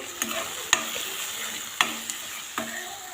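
Tadka tempering sizzles in a pan with a soft, steady crackle, while a spoon clacks against the pan three or four times at irregular intervals, close by and with no talk.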